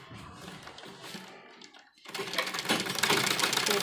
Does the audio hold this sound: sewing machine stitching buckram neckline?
yes